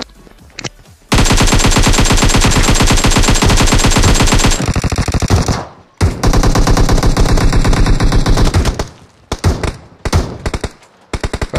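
Automatic gunfire in PUBG Mobile rings out loud and close in a long rapid burst, followed by shorter choppy volleys and a few separate shots.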